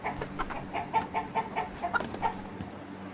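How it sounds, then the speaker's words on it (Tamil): A hen clucks in a steady run of short, rhythmic notes, fairly close and loud, with no talking over it. "கோழி"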